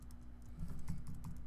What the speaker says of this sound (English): You can also control these with your arrow keys